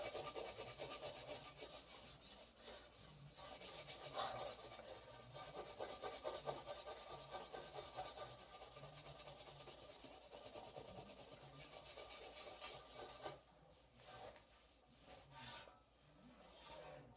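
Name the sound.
steel wool rubbing rust on Yamaha XS850 fender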